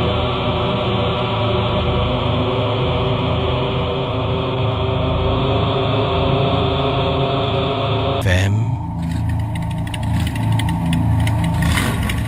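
A motorcycle engine runs at night as a radio drama sound effect, a loud steady idle that shifts abruptly partway through into a thinner, buzzier running tone, with no voices.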